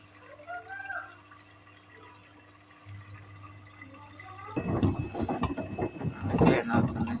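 Water rushes into a washing machine loaded with shoes, starting abruptly after a few seconds of low hum and then pouring steadily and fairly loud to the end.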